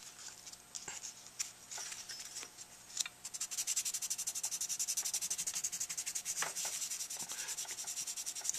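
Fine-grit sandpaper being rubbed by hand over a handmade tenor sax mouthpiece, starting as scattered scrapes and then settling into a quick, steady back-and-forth rasp, close and quiet.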